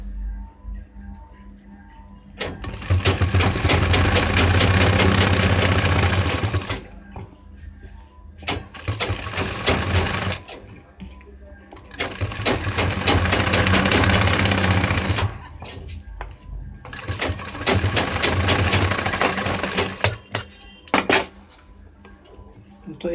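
A sewing machine stitching a pant seam, loud close bursts of rapid mechanical whirring and needle clatter in four long runs separated by quieter pauses with faint handling.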